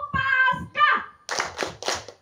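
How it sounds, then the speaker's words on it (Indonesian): A few quick hand claps land between children chanting an Easter clapping song in Indonesian at an outdoor church service, in a short rhythmic pattern close to the microphone. "Tepuk Paskah, sukacita, Yesus bangkit,"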